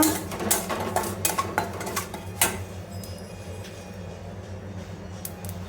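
Coriander and cumin powder being stirred into oil in a pan, with a run of metallic scrapes and clinks from the first two and a half seconds, then a quieter low rumble.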